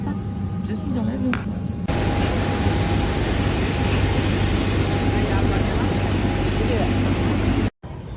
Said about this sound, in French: Je suis dans l'avion.